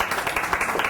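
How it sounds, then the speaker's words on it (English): Audience applause at an entrepreneur and tech talk event in a Microsoft Store: a dense, steady wash of many hands clapping together, brief and fairly loud. "Round of applause, please."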